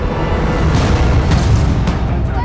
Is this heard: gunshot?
yes